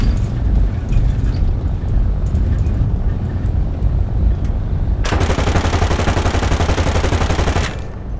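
Fw 190 D12 fighter plane in War Thunder firing its 20mm cannons, a loud sustained rattling burst lasting a few seconds over the constant heavy roar of the engine.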